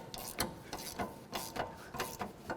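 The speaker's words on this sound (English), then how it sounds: "we want the ratchet so it's tightening and the wrench so it's turning to the left" Rhythmic ratcheting clicks from a ratchet and wrench working loose a front sway bar link on a 2004-2007 GMC Envoy, with steady repeated strokes close by and no talking.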